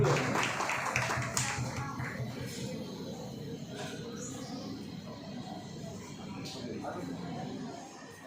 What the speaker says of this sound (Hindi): एक बार जोरदार तालियां बजाकर हम उनका अभिनंदन करेंगे।